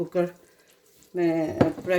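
Chana dal and bottle gourd (lauki) with spices are sautéed in a pressure cooker pot, a soft sizzle running beneath someone talking in Hindi.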